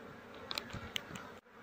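Honey bees, calmed by smoke, buzz nearby in a low, wavering drone with a few sharper flickers, the sound cutting out briefly near the end.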